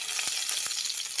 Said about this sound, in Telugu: బాగా ఫ్రై చేసేసుకుందాం.